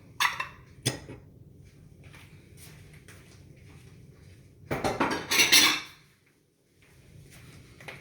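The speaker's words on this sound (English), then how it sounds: "Move these bowls out the way." Bowls are moved about on a kitchen counter, with a few sharp clinks and clatters, then a louder cluster of ceramic knocks and scrapes, under a quiet room background.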